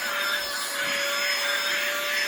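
A handheld vacuum cleaner runs steadily and close, a loud whining motor hum with a strong constant tone and airy rush, used to pull deer ticks off a dog.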